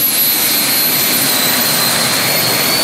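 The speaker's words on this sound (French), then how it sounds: "Des monstres de puissance pouvant atteindre les 4500 chevaux pour peu qu'on les propulse avec des turbines d'hélicoptères ou des moteurs d'avion." A tractor-pulling machine powered by helicopter turbines or aircraft engines, up to 4500 horsepower, screams at full power, a loud, continuous jet-like turbine roar with a high whine running unbroken throughout.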